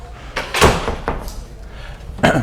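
A door slams shut with a sharp, close thud, followed by a softer knock and then another heavy bang near the end, heard without other sounds.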